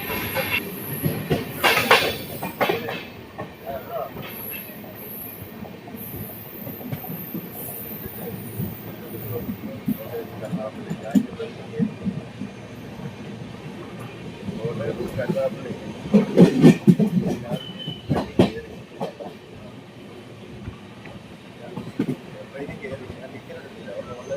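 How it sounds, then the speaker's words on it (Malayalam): Ernakulam-Velankanni Express train running after leaving Kottayam station, with a steady rolling rumble, rattling carriages, clacking wheels and brief squeals peaking midway, while people talk inside the second class coach. "കോട്ടയം റെയിൽവേ സ്റ്റേഷനിൽ നിന്ന് ട്രെയിൻ എടുത്തിട്ടുണ്ട്"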